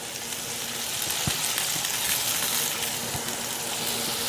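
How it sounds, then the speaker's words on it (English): Bacon-wrapped sausage bites sizzling in rendered bacon fat on parchment paper, a close, continuous hissing sizzle with scattered soft pops and a faint low hum underneath, with no talk. "I don't know if you guys can hear that sizzle in the video"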